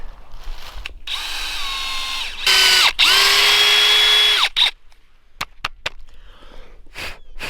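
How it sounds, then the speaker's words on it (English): Power drill boring a tap hole into a maple tree in a New Hampshire backyard in spring, heard as several close, loud whirring bursts that rise and fall in pitch, followed by a few sharp clicks and knocks. "Alright, let's get the other tree drilled."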